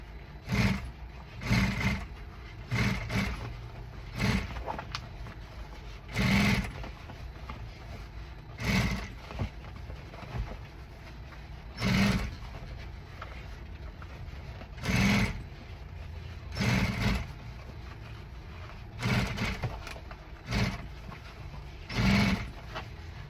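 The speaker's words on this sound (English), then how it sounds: "most of the thing that I do for fitness equipment pads, I always put a top stitch" Sewing machine top-stitching an upholstered fitness equipment gym pad, running in short repeated bursts of several seconds each with brief pauses, steady mechanical whir over a low hum, close by with no talk.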